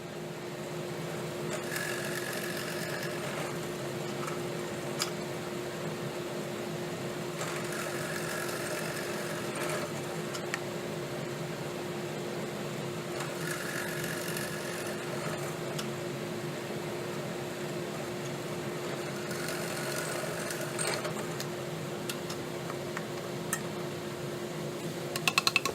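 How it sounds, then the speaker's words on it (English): A drill press bores a series of holes in wood for mortises, a steady motor hum broken by several recurring bursts of drilling, each lasting a few seconds, moderately close with no talk. "the drill press and drill all the way down, so that I end up with a bunch of holes"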